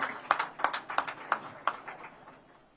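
Audience claps for a politician's arrival at a semiconductor plant inauguration ceremony, a brief burst of distinct handclaps in a loose rhythm that quickly thins out and fades.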